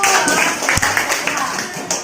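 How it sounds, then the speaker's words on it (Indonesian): Classroom clapping by students during a lesson, a dense rattle of many hands, loud and close, with a few sharper individual claps standing out. "Oke, tepuk tangan dulu."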